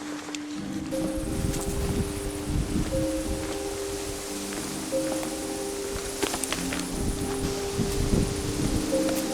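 Wind rustling through leaves outdoors at night, a steady broadband hiss with soft gusts and occasional faint crackles, continuous and fairly distant, with no speech.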